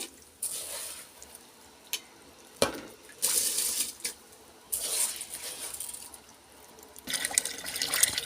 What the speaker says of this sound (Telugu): నీళ్ళు అయితే మరుగుతున్నాయి కదండి దీంట్లో అయితే బియ్యం వేస్తున్నానండి